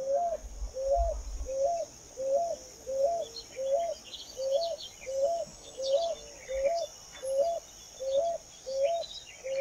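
A picui ground dove in a rural area calls about a dozen times, each a short, even, two-part coo repeated at a steady rhythm over faint background ambience.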